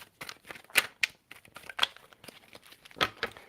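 Tarot deck being shuffled by hand, a run of crisp papery card riffles and flicks with several sharper snaps, fairly close and moderately quiet.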